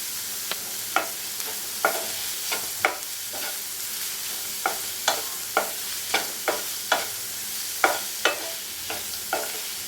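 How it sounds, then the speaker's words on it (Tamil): Onions sautéed in a pan: a spoon scrapes and clanks against the pan in a steady rhythm of about a dozen sharp strokes over a constant soft sizzle, close and clear. "இதில் வெங்காயம் சேர்த்து நல்லா கலந்துக்கோங்க."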